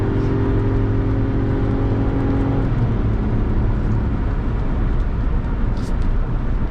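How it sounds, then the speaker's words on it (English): 2025 RAM 1500 with Hurricane six-cylinder engine at wide open throttle while towing a trailer uphill, a loud sustained engine roar with rising tone from inside the cab. "So let's go ahead and give it some wide open throttle."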